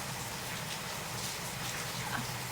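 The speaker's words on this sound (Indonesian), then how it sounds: "Kok bisa hujan kayak nggak mau tanggung jawab." Rain falls at night in Bali during a flood, a steady, even hiss of drops on surfaces that carries on unbroken and fairly faint.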